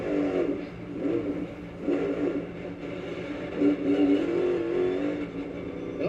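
A NASCAR race car engine revs hard and unevenly at a Texas race, seemingly stuck in the wrong gear, a steady mid-distance roar that rises and dips in repeated surges with no talk over it.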